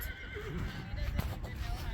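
A horse whinnies with a rising and falling neigh amid steady outdoor background noise at a horse event, moderately close, with faint clip-clop and people talking in the distance.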